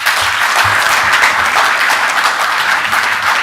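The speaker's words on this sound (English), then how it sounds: "Another round of applause." Sustained applause from an audience at a corporate financial results event, a dense continuous wash of many hands clapping at an even level throughout.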